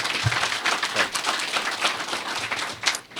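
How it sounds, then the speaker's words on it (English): An audience at a Texas Southern University men's basketball press conference claps steadily throughout a sustained round of applause, with individual claps audible within the wash. "could you give a round of applause to those guys"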